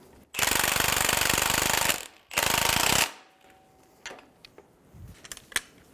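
A pneumatic impact wrench snugs down the strut nut on a 2000-2007 Ford Focus, firing two loud, sustained rattling bursts followed by quieter clicks and small knocks of tools.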